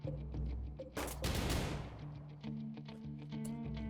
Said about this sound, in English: Did they shoot off a flare?